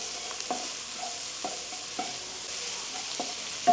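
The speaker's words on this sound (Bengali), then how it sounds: "মাশরুমগুলো 1 মিনিটের মতো সতে করব, সতে করার পর তুলে নেব।" Mushrooms sauté in a pan, giving a steady soft sizzle broken by several light scraping stirs at fairly regular intervals, close and alone with no talk.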